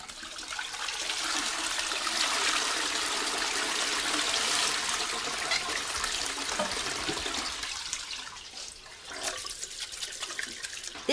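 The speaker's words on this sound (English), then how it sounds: "This dirty water is going to the same place as Pippin's poo." Dirty water rushing and draining away toward the sewer, a loud, steady hiss of flowing water that eases off and thins to trickles near the end, no talk.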